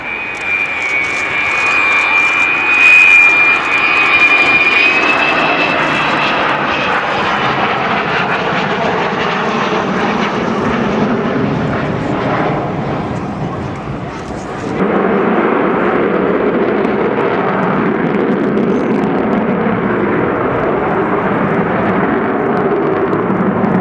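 The Avro Vulcan XH558 delta-wing jet bomber flies past at an RAF Waddington air display, a loud sustained jet roar with a rising howl that shifts in pitch as it passes and then settles into a steady rumble.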